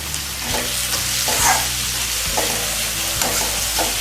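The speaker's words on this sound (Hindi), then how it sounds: "तो हल्की सी हमारी गोभी भुन गई है।" Grated cauliflower and a small piece of grated ginger frying in a pan for a gobhi paratha filling, a close, steady sizzle broken by regular scraping strokes of a stirring spoon about once a second, with no talking.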